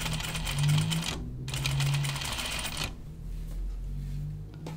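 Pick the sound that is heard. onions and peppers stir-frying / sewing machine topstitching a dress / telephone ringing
sewing machine topstitching a dress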